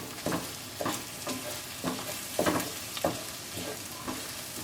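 Onions frying in oil in a pan over high heat for rice, a soft continuous sizzle broken by rhythmic scraping stirs about every half second.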